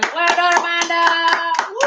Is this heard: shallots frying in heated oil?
no